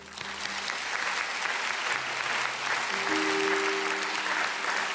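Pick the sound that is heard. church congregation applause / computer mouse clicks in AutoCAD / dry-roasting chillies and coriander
church congregation applause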